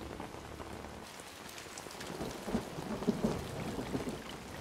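Rain falls steadily on surfaces, with low thunder rumbling through the middle and swelling toward the end, in a storm scene from a television episode; moderate level, no talking.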